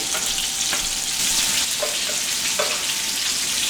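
Meatballs fry in a pan with a steady loud sizzle and spatter, a few light clicks of a utensil against the pan popping up through the hiss, close by with no speech.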